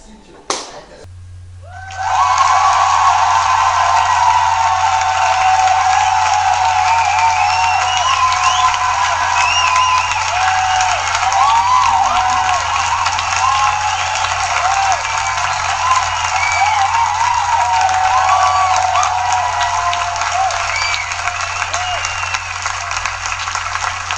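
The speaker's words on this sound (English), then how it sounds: "I'm lowering everybody's behavior score unless everybody gives me a round of applause." A classroom of students breaks into loud, sustained applause with cheering for their teacher, dense clapping that starts abruptly and holds steady for over twenty seconds, close and lively, with voices mixed in.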